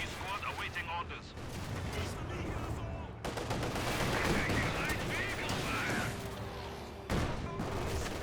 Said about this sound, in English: MG42 still firing away against the conscripts.